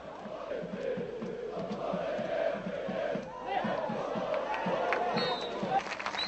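A stadium crowd at a Partizan versus Banat football match applauds a player leaving the pitch late in the game, a steady rolling clap and crowd roar with a commentator's voice talking over it.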